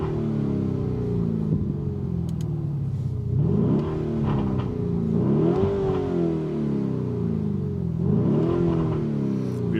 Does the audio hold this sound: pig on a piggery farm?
no